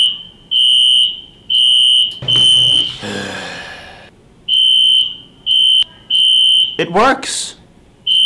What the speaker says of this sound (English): They're testing the fire alarm.